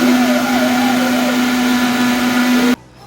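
A mixie grinder runs loud and close with a steady motor hum, blending 10 to 12 soaked cashews into a smooth paste, then cuts off abruptly near the end into quiet room tone.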